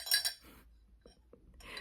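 A drinking cup covered in mushroom decorations gives a couple of light, bright clinks up close, followed by near silence and faint small taps.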